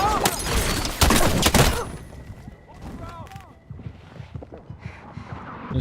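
Combat gunfire in a video game firefight, a loud cluster of sharp, close shots in the first two seconds, then scattered fainter bangs under shouted voices and chatter.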